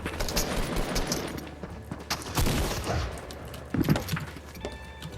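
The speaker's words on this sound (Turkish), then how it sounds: "Adam kafama roket atar attı." Rapid gunfire and explosive bursts in a Fortnite OG match, including a rocket launcher being fired, loud dense volleys with heavy thumps throughout, no talking.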